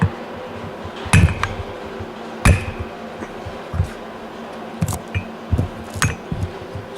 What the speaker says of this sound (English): To try and tap the actual piston off of the shaft.